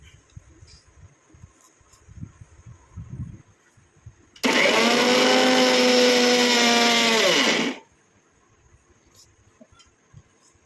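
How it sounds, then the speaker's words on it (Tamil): A mixer grinder whirs as it grinds herbal hair dye ingredients in one loud, steady run of about three seconds. It starts abruptly and winds down, with quiet handling noises before and after. "இதை நல்லா நம்ம அரைச்சி எடுத்துக்கலாம்"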